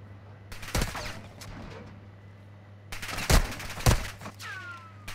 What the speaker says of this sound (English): Someone's shooting me from a house across the road.